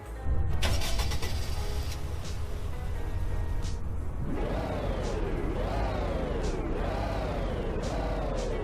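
A fire truck in the Roblox game Greenville starts up and revs its engine in repeated rising whines, each climbing in pitch and then dropping back over a steady idle, close and alone with no voices.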